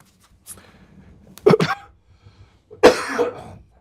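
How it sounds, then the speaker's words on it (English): Two harsh, close coughs in a quiet room, the first a double burst, the second a longer raspy hack. "I've had this cough for forever, it seems like."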